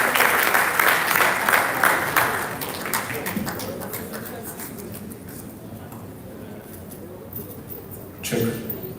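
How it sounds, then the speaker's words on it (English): Audience applause at a live destination awards ceremony, a dense burst of clapping at the start that thins and fades over several seconds into room noise, with a brief voice near the end. "Round of applause for yourself."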